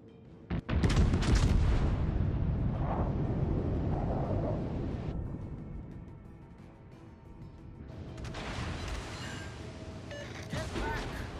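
Warship artillery fire in the naval battle game World of Warships: Legends, heard as a sudden heavy boom that rolls into a sustained roar of shelling and rumble, dipping and then rising again, loud and close.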